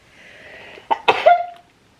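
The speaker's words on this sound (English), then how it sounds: "One moment, need to sneeze." A single sharp sneeze bursts out after a brief breathy build-up, close and loud, then trails off into quiet.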